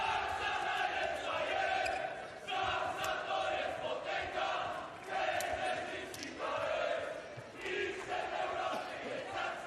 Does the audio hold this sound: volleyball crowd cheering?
yes